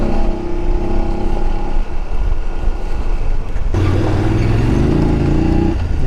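Vehicle engine on a rough off-road mountain road in a cold valley near Om Parvat, overtaking trucks; a steady loud drone with wind buffeting, shifting to a deeper, louder pull midway as the vehicle accelerates past.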